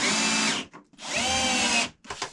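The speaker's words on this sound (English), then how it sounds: "We could potentially screw through into that fiddle." A power drill drives screws into the wooden fiddle of a Freedom 28 sailboat's nav table, with two loud whirring bursts close by, each lasting under a second, then a brief third start.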